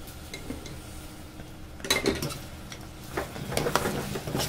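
A spoon stirs thick, sticky Annavaram prasadam in a pan, with soft scraping and a few sharp metallic clinks that grow busier toward the end.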